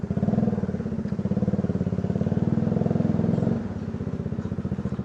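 Motorcycle engine running steadily during a ride on a Bajaj Dominar with a fully stretched clutch cable that slips around 5,000 RPM, a loud, continuous pulsing drone that eases off slightly partway through.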